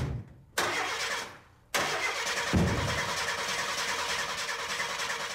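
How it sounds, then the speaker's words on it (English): An old, worn-out junk car's engine cranks loudly and close up in a rough, continuous churn, briefly cut off and then resumed, grinding on without settling into a clean idle. "Kramer turned on the car. And of course, the car was a pile of junk, and it didn't start."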